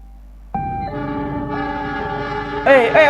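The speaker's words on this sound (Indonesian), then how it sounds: "Ini adalah kereta api tujuan Sukabumi." A loud horn from a train bound for Sukabumi blares at a railway level crossing with sustained, harmonically rich tones close by, joined near the end by a wavering, warbling crossing signal.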